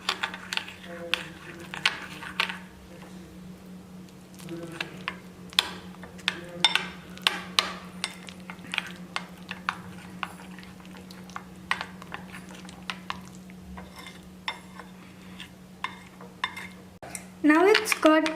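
Paneer tikka marinade is mixed in a bowl, giving repeated light clinks and taps of a spoon against the bowl in an uneven rhythm, close and fairly quiet over a low steady hum, with a brief louder burst at the end.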